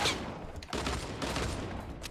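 Fortnite pistol firing in quick bursts, much like a Halo battle rifle: a couple of sharp, close cracking volleys in rapid succession over a busy game background.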